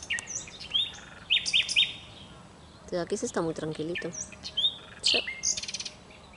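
Several small birds chirp and tweet in bright bursts nearby, with a person speaking softly over them partway through.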